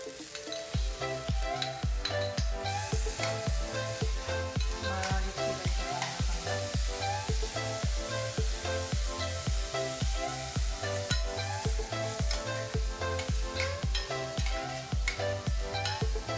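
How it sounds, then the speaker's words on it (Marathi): Onion with ginger paste frying in a pan for a paneer paratha filling, a steady soft sizzle under a regular rhythmic tapping of a spatula against the pan, no voices. "आपला कांदा झालेला आहे फ्राय करून"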